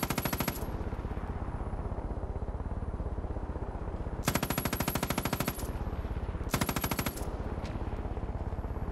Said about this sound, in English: I guess he's shooting at me with a sniper rifle